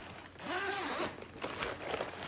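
Quick zipping rasps from the zipper on a Daiso packing pouch, one long close pull followed by shorter ticking drags, loud and near.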